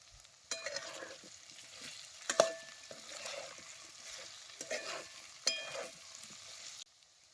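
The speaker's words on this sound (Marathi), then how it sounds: "आता हे बटाटा तेलात कसा चांगला भाजलाय बघा" Potatoes fry in oil in a pan over a wood-fired stove for a potato curry, a quiet crackling sizzle with several sharp scraping clanks of stirring that stop abruptly near the end.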